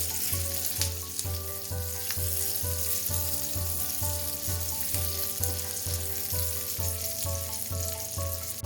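Chopped onion pieces frying in a pan for butter paneer, a loud continuous sizzle joined by a steady rhythmic scraping of the stirring spoon, with no one speaking.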